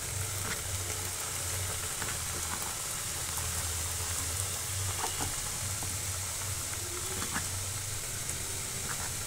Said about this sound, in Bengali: অবশ্যই এগুলো ডুবো তেলে ভাজতে হবে